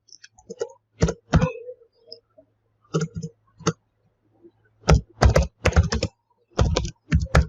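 Someone is typing network configuration commands on a computer keyboard, close up. The keystrokes come in short bursts of clicks separated by quiet pauses, with a faint low hum in the background.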